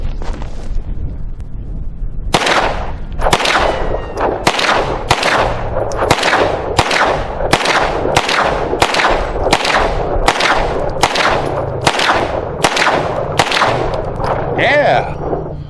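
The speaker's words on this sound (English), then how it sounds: "I'm going to start off with Fedro 115 grain full metal jacket, 15 rounds, 7 yards" A Taurus G3X 9mm pistol firing 115 grain full metal jacket rounds at seven yards: a long string of loud, sharp shots at a quick, even pace, each with a short echoing tail.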